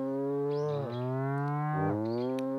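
A cow in the video game DEEEER Simulator gives two long, loud moos, each sliding down in pitch, close and clear with nothing else around them.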